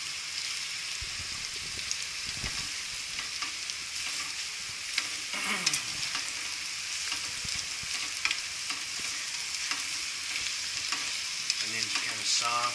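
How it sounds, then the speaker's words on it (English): Beef browning in a pan with soft onions for Filipino kare kare, a steady dense sizzle close by, broken by scraping and clinking as it is stirred, with no talking. "Next part is to brown your beef. Put it in there, brown it."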